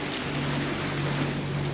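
Port engine of a Leopard 45 sailing catamaran running at sea, a steady low droning hum that holds even throughout, with wind and water noise washing over it and no talk.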